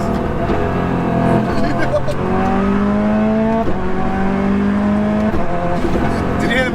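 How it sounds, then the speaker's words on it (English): Prodrive P25 turbo car slowing down from the passenger seat, engine note falling with anti-lag wastegates popping and crackling in bursts, loud and close, with voices talking over it. "Did you hear the wastegates go?"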